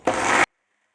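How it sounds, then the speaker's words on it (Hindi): A kitchen blender whirs loudly for about half a second while making homemade mayonnaise, giving a harsh broadband motor roar that cuts off abruptly into silence. "अब ब्लेंडर को चला लेंगे।"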